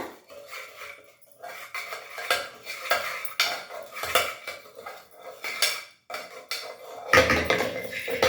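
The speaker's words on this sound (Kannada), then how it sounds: "ಇವಾಗ ಇದನ್ನ ಸ್ಪೂನಲ್ಲಿ ಥರ ಎಲ್ಲ ಕಲಿಸ್ಕೊಡ್ಬೇಕು ಉಪ್ಪು ಖಾರ ಪುಡಿ ಎಣ್ಣೆ" A spoon mixing salt, chilli powder and oil in a metal vessel, producing repeated scraping and clinking strokes in an uneven rhythm, close and fairly loud, with no speech.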